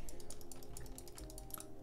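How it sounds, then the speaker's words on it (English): A computer mouse clicks rapidly and steadily in a fast, even run of light taps. The clicks are faint and close, over a low hum. "I'm just clicking rapidly to quickly get a bit more shape into here."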